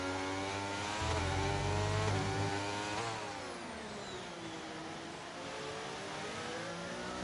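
Formula 1 race car engines scream in a racing video game as a McLaren runs through Mugello, a high, harmonic-rich whine that climbs, then drops in pitch under braking before rising again, loud and continuous with no talk.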